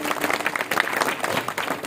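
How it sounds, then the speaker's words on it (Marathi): An audience at a kirtan in Tapovan, Washim, claps together in a dense, fairly loud burst of applause that fills the short moment, with a faint murmur of voices mixed in. "सर्वांसाठी एक वेळा टाळ्या वाजवा"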